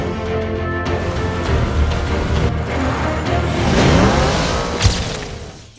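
The Ecto-1 Ghostbusters car races past with a loud, sustained engine roar and whoosh that swells toward the middle and then fades, with no speech.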